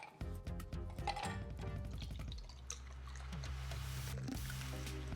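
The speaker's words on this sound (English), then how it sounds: "Let's get some fresh 1 by 1 ice cubes in my glass here." Fresh 1 by 1 ice cubes dropped into a glass for a watermelon margarita, a quick run of close clinks and clatters that settles into a faint fizz and crackle.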